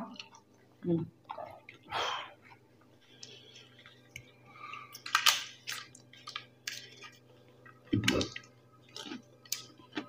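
Someone eating rohu fish curry with rice at a hotel lunch in Darjeeling, with soft wet chewing and squishing bursts and small clicks, close by, with speech around it.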